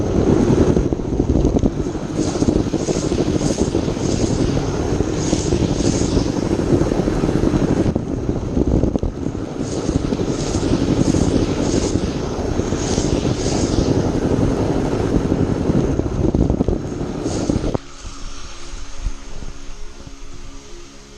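A Warley model locomotive runs on its track with a steady, continuous mechanical whir and rumble, with faint rhythmic clicking over the top; the motor noise stays close and level, then drops abruptly near the end.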